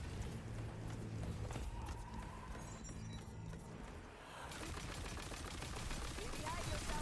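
Video game gunfire from crossbow-barrel skulldugger weapons firing homing, ricocheting bullets, a dense continuous clatter of rapid shots with a brief lull near the middle before resuming.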